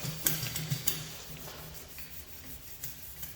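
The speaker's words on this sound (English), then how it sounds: "with the Scotch-Brite, especially the red, allows you to get in all these little, crevices" Car body panels on an SRT-4 are scuffed by hand with a red Scotch-Brite pad before paint, giving quiet, uneven rubbing strokes with a few sharper scrapes early on, heard alone.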